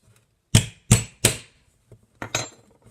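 Three sharp, loud impacts in quick succession, then a pause and a couple more knocks, like punching through the lid of a container of homemade body and baby powder.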